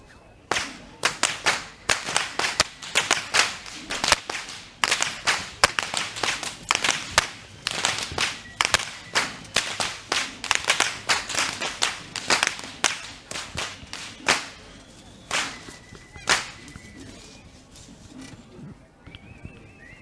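Ceremonial whips crack again and again at the Kandy Esala Perahera procession in Sri Lanka, sharp loud snaps in quick irregular bursts, some overlapping, over a murmuring crowd.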